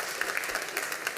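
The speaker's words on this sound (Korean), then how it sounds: "박수 주십시오." Congregation applauding during a family-themed worship service at a church, a steady patter of many hands clapping with no talk over it.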